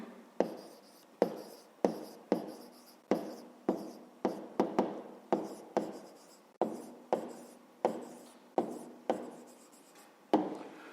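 A pen scratching across paper during a fifth-grade maths lesson, in regular strokes and short bursts separated by brief pauses, close and fairly quiet, with no talking.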